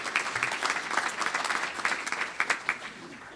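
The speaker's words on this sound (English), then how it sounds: "You deserve a round of applause for that." Rotary club luncheon audience gives a round of applause, a moderate, somewhat distant wash of many hands clapping with a few sharper claps standing out.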